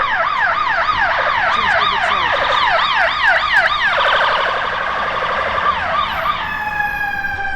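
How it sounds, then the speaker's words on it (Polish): A loud wailing American ambulance siren in Chicago rapidly warbling up and down, then shifting to a slower steady wail, with background traffic noise. "Zobaczycie jak wygląda amerykański ambulans."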